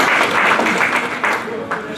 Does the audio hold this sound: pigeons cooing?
no